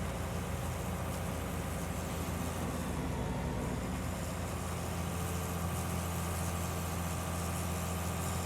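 A red tractor from Farming Simulator 19 idles steadily with a low, continuous engine drone, unchanging and alone for several seconds.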